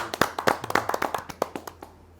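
A small audience at a kavi sammelan claps to welcome a poet, a couple dozen crisp, distinct hand claps in quick uneven rhythm that thin out and fade after about two seconds.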